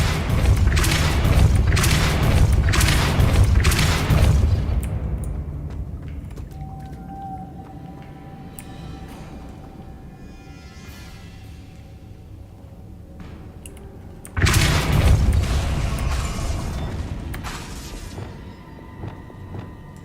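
Repeated pushing spell blasts in Hogwarts Legacy thump out in a rapid rhythmic volley at the start, fade into a quiet hum with faint tones, then a second heavy burst of blasts strikes loud and close.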